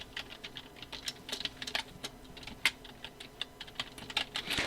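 Computer keyboard keys pressed in quick irregular bursts while entering Photoshop shortcuts, a steady close patter of light plastic clicks with no voice.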